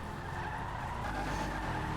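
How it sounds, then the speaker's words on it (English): All four wheels of a Karin Sultan RS Classic spin in GTA Online, giving a sustained tire squeal over a steady engine roar, loud and close for the whole stretch with no talk. "we got all 4 wheels spinning"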